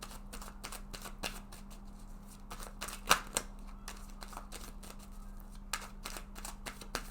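Tarot cards are shuffled in soft, rapid riffles and flicks, with a few sharper snaps as cards are drawn, heard close and quiet with no talking.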